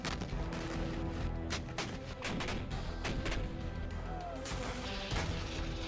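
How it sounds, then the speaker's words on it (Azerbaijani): Artillery fire in wartime: dense, loud, overlapping booms and sharp blasts that repeat in rapid, irregular succession with hardly a pause. "dəqiq artilleriya atışları ilə məhv edildi"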